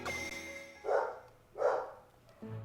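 A dog barks twice from a distance, two short separated barks that are faint and sit among quiet background sounds.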